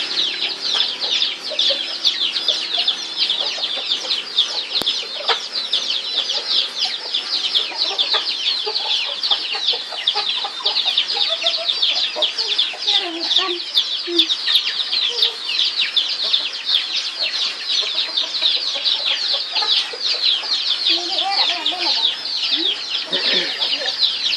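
Chickens cluck and squawk continuously while scuffling with a cat, the fowl calls dense and bright throughout, with brief voices faintly beneath.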